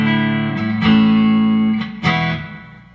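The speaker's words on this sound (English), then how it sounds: "that's a spring reverb." Guitar notes played through the spring reverb setting of a TC Electronic Hall of Fame pedal, sustained chords ringing out with a splashy, lingering tail between two struck notes.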